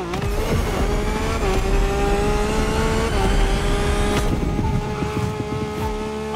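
A Lamborghini Revuelto in The Crew Motorfest revs loud and steady, its engine tone holding high and shifting slightly as it pulls, with no talking over it.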